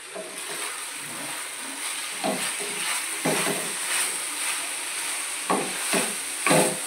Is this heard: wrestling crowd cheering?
no